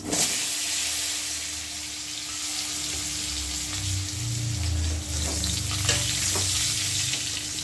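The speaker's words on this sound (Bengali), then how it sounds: "মাছ ভাজা হয়ে গেছে, এখন আলুগুলো ভাজবো" Potatoes fry in oil in a pan after fish, a continuous loud hissing sizzle close by, with occasional stirring clicks and a low rumble beneath.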